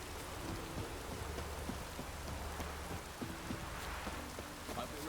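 Rain falls steadily across an open-world scene in The Witcher 3: Wild Hunt. A dense hiss of drops hits the surfaces, with a low rumble underneath and some faint, scattered tonal sounds.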